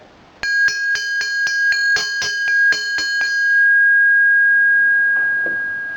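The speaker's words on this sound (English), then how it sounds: "we'll give it a rap with our knuckle. Ooh, listen to that ring" A homemade bell made from scrap metal is rapped about ten times in quick succession with a knuckle, giving bright metallic dings. A clear tone then rings on and slowly fades.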